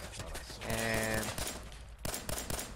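Gunfire from a firefight in the video game Fallout 4, a dense run of overlapping shots and bursts with a tonal hum through the middle, filling nearly three seconds at steady loudness.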